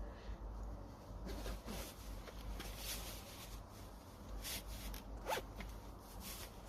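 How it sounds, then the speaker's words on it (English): A zipper on a layered jacket being worked, giving several short, quiet rasping zips in irregular bursts over a low background rumble, with no talking. "Yeah, this is a zipper for the other one."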